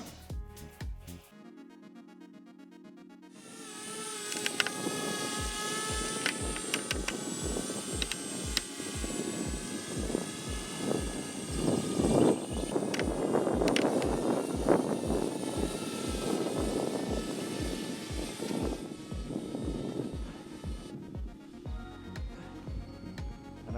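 A small DJI Spark drone hovers and flies overhead, its steady rotor whine droning continuously for the whole stretch with a rhythmic pulsing beneath, fairly loud and close, with no talking.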